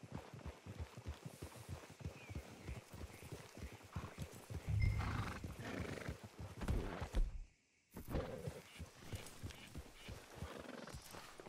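Horses in Red Dead Redemption 2 clip-clop along in a steady, rhythmic walk with a loud whinny partway through. Hoofbeats continue on both sides of a brief silent gap.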